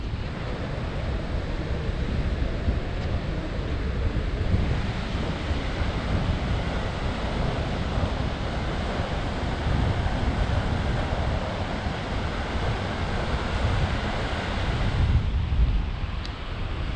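Sea waves wash quietly onto Fatrade beach in Goa, a soft continuous surf hiss with wind rumble across the microphone and no voices.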